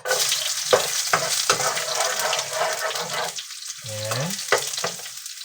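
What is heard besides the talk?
ginger frying in hot oil while stirred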